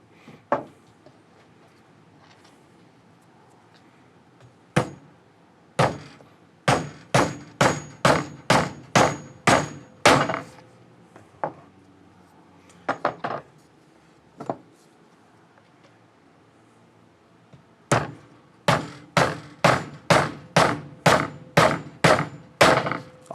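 Cheap 16-ounce hammers strike a target in sharp, ringing metallic blows, first scattered single hits and then quick rhythmic runs of about ten strikes each, loud and close with no talk.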